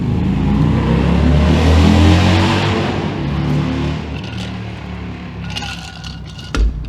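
A truck engine revs loudly in a rising, harmonic roar, then eases off into engine braking from a Jake brake, with a few sharp clatters near the end.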